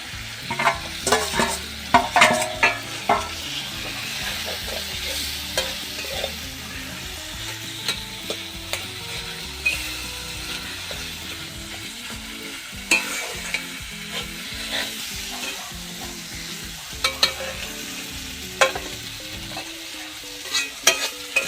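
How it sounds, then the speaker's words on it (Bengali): Mashed boiled potato being stirred into spice masala in a pan gives a quiet, steady sizzle with soft, irregular spoon scrapes and taps and no voices throughout. "এবারে আমি আলু সেদ্ধ মাখাটা এর উপর দিয়ে কষে নিলাম"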